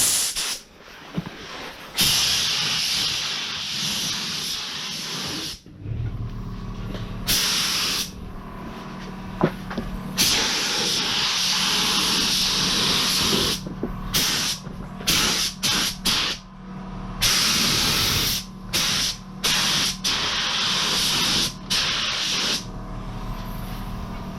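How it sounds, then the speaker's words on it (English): Spray gun applying lacquer over base coat on a car panel during a smart repair, long loud hissing bursts with short pauses between passes, close and steady. "I always put the first layer of lacquer over wherever I've base coated, not the whole lot"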